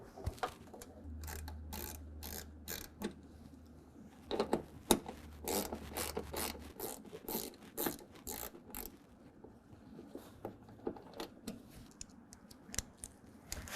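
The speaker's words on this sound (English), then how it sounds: "you're going to use an 8mm socket to pull those out, so let's go ahead and do that" An 8mm socket on a ratchet backs out mud flap bolts on a 2020 Ram 2500, with rapid close ticking and clicking ratchet bursts and small metallic handling noises, fairly quiet and without talk.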